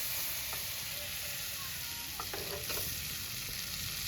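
Chili paste thinned with water hits hot tempering oil holding cumin and gives a loud, continuous sizzle. Light stirring clicks come through near the middle.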